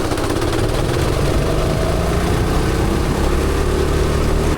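A go-kart engine revs hard and steady at high speed, a loud continuous drone with a rising whine held for the whole stretch, no voices over it.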